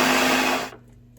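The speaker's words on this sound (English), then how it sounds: "All right, blend it." A blender motor runs loud and steady while blending charred vegetables for a grain bowl, then cuts off abruptly partway through, leaving a low residual hum.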